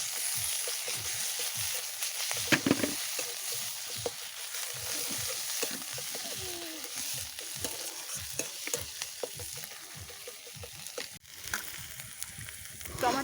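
Garlic hits browned onions in a frying pan with a close, continuous sizzle. Repeated spatula scrapes and stirs break through the sizzle at an uneven pace.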